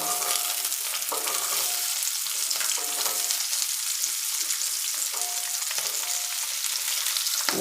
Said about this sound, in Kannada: ಈಗ ನಾನು ಈರುಳ್ಳಿನೂ ಸೇರಿಸ್ತಾ ಇದ್ದೀನಿ